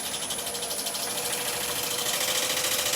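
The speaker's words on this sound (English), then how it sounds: "Lathe speed to 0 and slowly trickle the speed up." A wood lathe turning a soft fan palm blank hums steadily with a high whine and a constant mechanical drone, running loud and close without pause at about 800 rpm.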